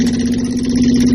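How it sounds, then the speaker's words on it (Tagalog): Motorboat engine running in a radio drama scene, a close, steady mid-pitched mechanical drone with a constant hum and light clatter, brief and alone without speech. "Andoron ko na ang makina nining pambot."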